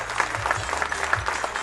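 An audience applauds at a tribute event honoring radio personalities, a continuous crowd clapping at even loudness with scattered louder individual claps and faint voices mixed in.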